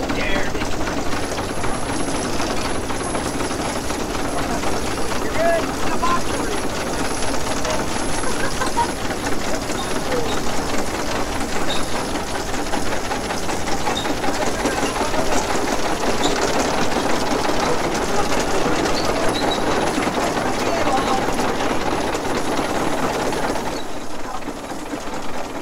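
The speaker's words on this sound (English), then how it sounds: "we would be running caboose first down the hill, which meant the train crew would have to work with the handbrakes on the cars" A locomotive runs caboose first down a hill, with the crew working the handbrakes on the cars along with the engine's brakes: a steady, loud rumbling and clattering roar that continues unbroken throughout, fading slightly at the very end.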